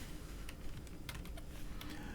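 Soft, quiet keyboard clicks tap out a short series of keystrokes, irregularly spaced, against a low steady hum.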